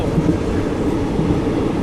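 A high-speed electric train rushes past at close range, a dense, steady broadband roar with a low rumble and faint rail clatter that holds level throughout.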